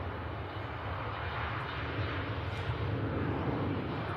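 Embraer jet airliner departing toward Northolt, a loud, steady broadband engine roar with rumbling low end that holds constant throughout, no voices over it.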